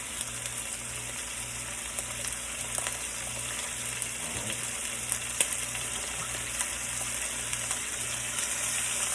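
Steak sautéing in a hot pan with onion, garlic and pepper, giving a steady, even sizzle throughout with no talking.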